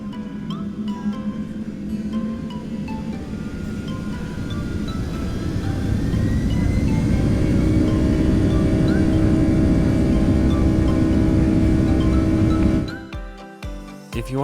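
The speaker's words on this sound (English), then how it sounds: "it's time to sit back and enjoy this awesome, powerful 757 takeoff" Inside the cabin of a Delta Boeing 757-300, the engines build from a low rumble into a loud, steady takeoff roar over about twelve seconds, then drop away abruptly, with no talk.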